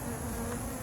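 Honey bees buzz at a backyard hive in a steady, close, even drone with no pauses.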